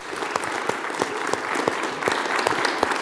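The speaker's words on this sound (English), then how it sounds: "give a round of applause for everyone who applied for PitchUP this year." Applause from the audience at the PitchUP 2024 start-up pitch event, a full, even clapping with sharp individual claps standing out, close and sustained.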